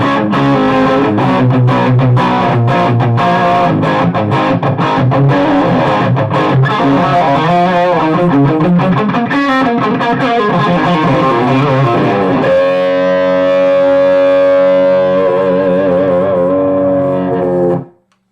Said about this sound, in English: this is kind of my main kind of distortion setting